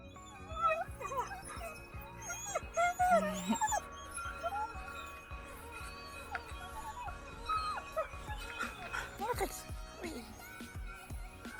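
Several dogs, including a husky, yip, whimper and bark excitedly at a park, with high whines rising over scattered barks and voices in the background.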